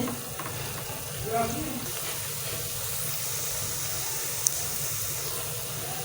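Steady sizzling and crackling of round gourd (tinda) frying in a hot pan, continuous and close, with faint clinks of a utensil.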